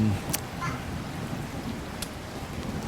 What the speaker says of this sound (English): The rain is so loud I didn't even hear the engine running.